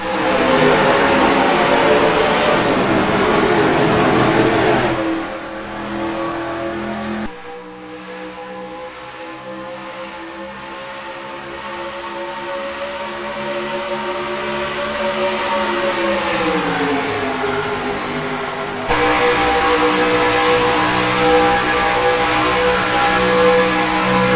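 Racing truck engines in the NASCAR Racing 2003 video game roar steadily throughout, a dense pack drone that dips in loudness for a stretch mid-race before swelling back to full volume.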